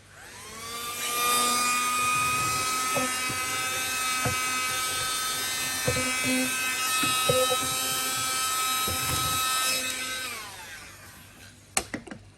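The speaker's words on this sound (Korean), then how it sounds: "청소기로 사육장을 좀 청소를 해야 될 것 같네요" A vacuum cleaner runs while cleaning out an animal enclosure, with a steady high whine that swells up, holds for about nine seconds, then winds down, broken by scattered knocks and bumps, with faint talk.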